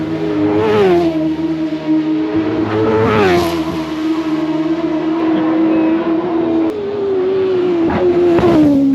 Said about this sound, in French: Là, on a entendu le carénage qui touche.